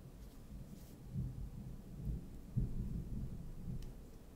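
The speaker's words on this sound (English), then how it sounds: "Yeah, we've got thunder." Low, rolling thunder from an approaching storm rumbles faintly in the distance, swelling in a few soft waves with one slightly sharper crack partway through.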